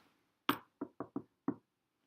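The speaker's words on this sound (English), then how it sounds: "her self-pity was disturbed by a sudden knock" Sudden knocks on a wooden door ring out close and clear: a single rap, a quick run of three, then one more, with quiet between and no voices.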